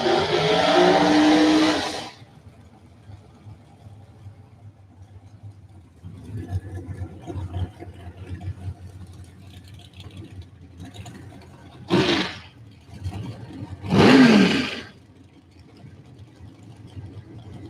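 A drag racing dragster engine at a Houston drag strip roars in a loud burst at the start, then distant rumbling follows, and two more short, sharp engine blasts ring out near the end.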